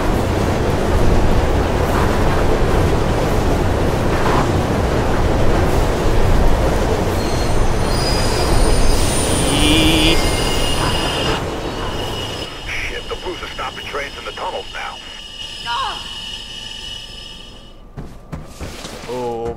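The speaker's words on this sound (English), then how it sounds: "There's a train coming behind you." A train in the video game Mirror's Edge approaches from behind, its loud rumble and squealing wheels building, then gives way to metallic clatter and tonal effects near the end.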